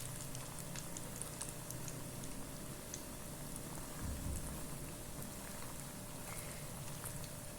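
Coxinhas frying in a small pan with a modest amount of oil, giving a dense, steady crackling sizzle throughout, heard close and continuous with no talk.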